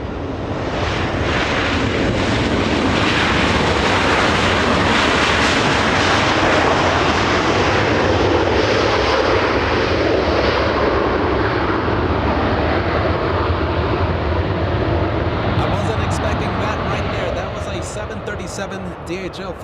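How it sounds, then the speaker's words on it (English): A DHL Boeing 737 cargo jet arriving at Los Angeles International Airport roars loudly and steadily in a broad engine rumble for the whole stretch, easing slightly toward the end as it passes. "This is a 737."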